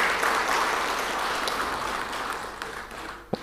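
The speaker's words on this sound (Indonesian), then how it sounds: "Tepuk tangan dulu lah." An audience claps steadily at an Indonesian official speech event, a dense wash of applause that holds for several seconds and thins toward the end, with one sharp knock near the close.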